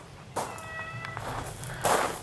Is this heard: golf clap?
no